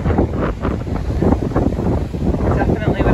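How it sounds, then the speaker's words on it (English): Strong wind buffeting the microphone at a beach on Sanibel Island, Florida, a steady rumbling roar with gusty swells, loud and continuous. "A little windy today, not as calm as yesterday."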